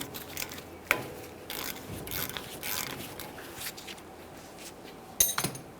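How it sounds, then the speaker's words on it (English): Ratchet loosening the 12mm banjo bolt on a rear brake caliper's flex hose of a 2015-2020 Ford F-150, heard as soft, intermittent clicking and metallic handling noises, close and quiet. "let's start removing the flex hose from the caliper by loosening our 12mm headed banjo bolt"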